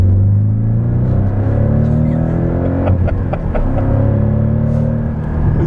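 A Porsche Cayman 718 GTS with a 2.5-litre flat-four engine rumbles steadily at a loud, low idle or light cruise, its deep throaty drone continuous throughout with no voices.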